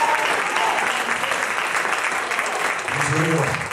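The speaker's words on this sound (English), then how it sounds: "Why don't you clap your hands and give praise unto the God because He's real." A church congregation claps along in a Pentecostal service, steady and loud for the whole stretch, with voices rising faintly beneath the clapping near the end.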